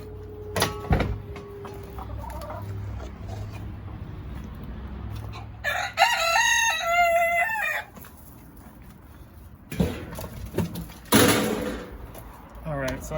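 Backyard chickens clucking and a rooster crowing around a homemade DIY grain toy, with loud nearby clucks in bursts, a strong crow partway through, and a person talking quietly in between.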